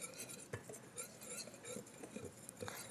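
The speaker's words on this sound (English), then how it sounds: "We've got to whisk this powdered stuff up first" Dry powdered waffle batter ingredients with salt being whisked in a bowl, a faint, busy scrape and tap of the whisk with a few sharper knocks against the bowl, quiet and close.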